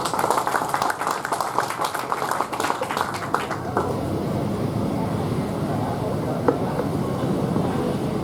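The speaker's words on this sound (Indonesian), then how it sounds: "Tepuk tangan saya lagi untuk Mas Tom" An audience applauds at a showcase of a restored Suzuki A100 motorcycle in Indonesia. Dense, loud clapping fills the first few seconds, then gives way to a quieter, roomy crowd murmur.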